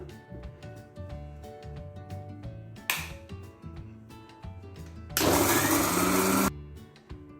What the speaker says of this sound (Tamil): பச்சை மிளகாயும் தேங்காயையும் மிக்சியில் ஒரு சுற்றி எடுத்துக்கலாம்.